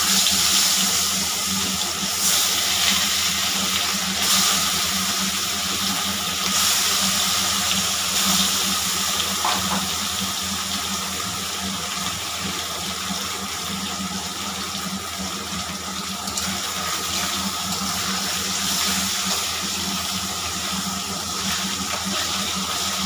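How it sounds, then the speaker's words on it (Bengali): Fish frying in hot oil in a wok, a loud, steady, unbroken sizzle and hiss that carries on through the whole stretch, with no voices. "মাছগুলো ভাজা করে নেব।"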